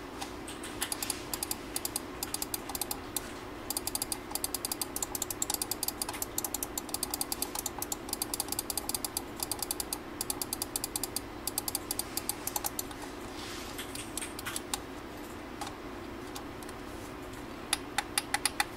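Rapid, crisp clicks from the buttons of a Fantech G10 gaming mouse, pressed close up in quick repeated runs for most of the time, then a few sparser clicks near the end.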